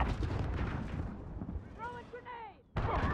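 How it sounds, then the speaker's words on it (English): Loud rumbling battlefield blasts from the Call of Duty: Modern Warfare video game, with a dense barrage of explosions that briefly dips while a radio voice calls out, then a sudden heavy cruise missile blast hits near the end. "Enemy cruise missile incoming!"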